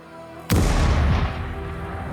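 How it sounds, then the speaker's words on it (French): Cannons fire at the Tower of London in a single sudden, heavy boom that rolls and echoes across the city before fading into a long rumbling tail. "les canons de la tour de Londres qui sont tirés pour prévenir le peuple"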